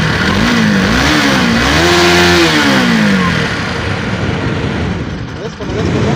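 A car with a radiator fan that keeps running revs its engine close by, the pitch climbing and falling in a few surges before easing back to a rough, lower run.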